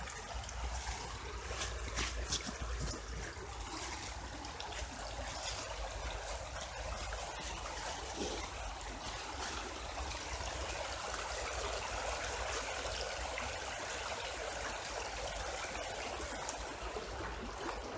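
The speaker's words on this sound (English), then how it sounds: "you're hearing the river running" River running through The Den in Kirkcaldy, a steady, broad rush and gurgle of flowing water that fills the air evenly and without a break.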